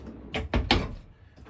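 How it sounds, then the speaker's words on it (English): An RV drawer in a 2021 Winnebago Micro Minnie 1800BH travel trailer slides out in a few quick, close rattling strokes, then goes quiet apart from a faint knock at the end. "We got more drawer space here. Slide all the way out."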